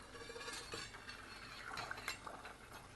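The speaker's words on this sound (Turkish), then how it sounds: "Kaşıkla üzerinden bu köpükleri alıp" A spoon skims foam off butter melting in a pan, making faint scraping and light metallic clinks against the pan with soft sizzling underneath, no voices.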